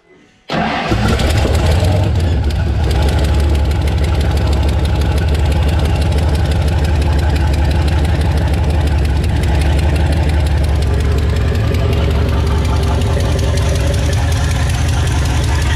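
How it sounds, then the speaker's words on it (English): A 408 stroker V8 with aluminium heads fires up and runs loud and close, a rough, rapid ticking rumble with a hissing, popping edge from a large exhaust leak that holds steady throughout. "Got a big exhaust leak over there."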